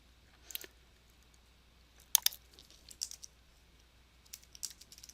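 Folder names typed on a computer keyboard come through as a few sparse, soft bursts of key clicks separated by pauses in a quiet room, with no voices.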